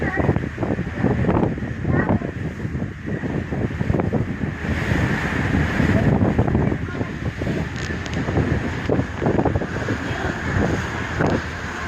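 Strong sea waves and wind on the sea off Merak, heard from aboard a ship under an overcast sky: a continuous, loud roaring wash with gusts buffeting the microphone throughout.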